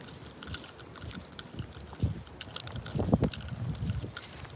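Gusty outdoor wind buffets the microphone in uneven rumbling bursts, with a louder rush near the end and no voices.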